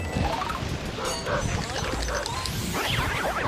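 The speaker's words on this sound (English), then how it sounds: "he's like a guard dog, so he gets mad just because you're out here" A guard dog ghost in the video game Luigi's Mansion barks in short bursts, mixed into busy game music and effects while a person talks over it.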